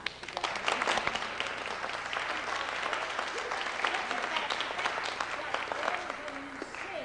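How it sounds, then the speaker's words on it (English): Audience at a singing master class clapping together, a dense, steady burst of applause that holds for several seconds at moderate loudness. "Let's clap again"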